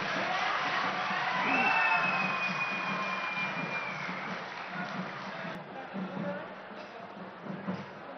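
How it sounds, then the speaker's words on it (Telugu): A large crowd at a foundation-stone ceremony for the chief minister claps and cheers. The applause sounds as a broad, continuous roar that stays fairly loud and gradually thins, with a voice over it. "గట్టిగా చప్పట్లు కొట్టి"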